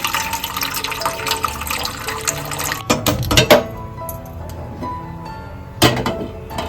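Water splashes and pours into a metal pot in a few bursts, with clattering as the vessel is handled between pours.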